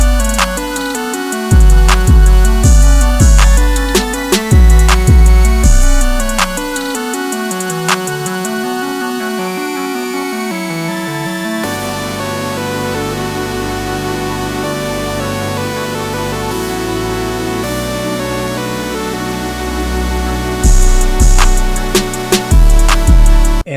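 Section C of a hip-hop beat plays with punchy drums and a gliding Moog bass line. Loud, steady groove with booming low hits, a thinner middle stretch, then the drums return near the end.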